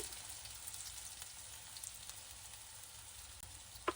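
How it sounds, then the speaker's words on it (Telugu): Curry leaves frying in hot oil make a faint, even hiss of sizzling with occasional small pops, steady and quiet, ending with a sharper crackle. "ఆయిల్ హీట్ ఎక్కాక వేసేసుకుందాం కరివేపాకు"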